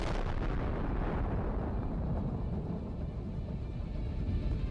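Continuous roaring explosion of a HIMARS long-range missile strike on a Russian mine-laying vehicle at a storage site, a loud dense rumble of blast and burning munitions filling the whole span without talk.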